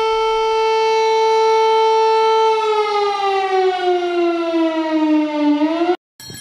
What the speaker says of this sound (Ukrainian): Як ми закінчуємо цей відпуст звуком тривоги